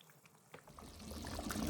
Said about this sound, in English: I'm adding some water, 4 cups, and dilute it